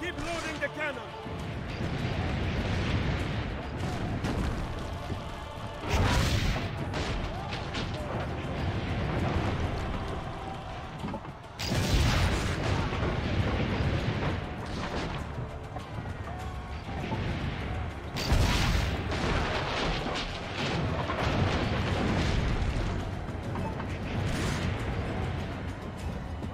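Cannon fire in Assassin's Creed Brotherhood, heavy crashing booms roughly every six seconds over ongoing battle noise, with voices talking throughout.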